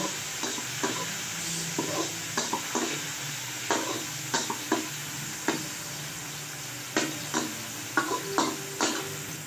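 Chopped tomatoes being sautéed and mashed in a pan, with a continuous sizzle and repeated sharp scrapes and taps of a utensil against the pan at an uneven rhythm, close up and with no talking.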